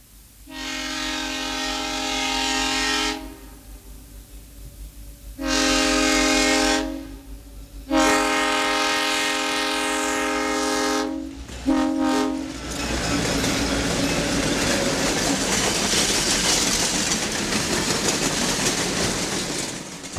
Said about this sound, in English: Number 3, the Abraham Lincoln passes through Lockport, Illinois on the GM&O.